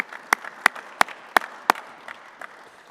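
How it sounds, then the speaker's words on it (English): Five sharp claps ring out evenly spaced at a chapel service, followed by a few fainter, scattered claps fading away against a quiet background. "Let's give them one more round of applause."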